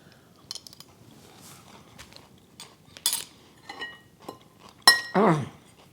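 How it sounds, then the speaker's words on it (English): A spoon being rinsed knocks and clinks against dishes in a quiet kitchen, giving several light, sharp taps spread unevenly, with a louder clatter and a short splash of water near the end. "Rinsing the spoon. Grabbing another bite."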